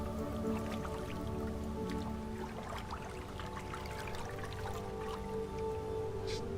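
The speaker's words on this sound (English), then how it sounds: "Just playing around with the water." Water splashing and dripping in the video game Myst IV: Revelation, a steady stream of small drips and splashes over a low ambient hum, fairly quiet and continuous throughout.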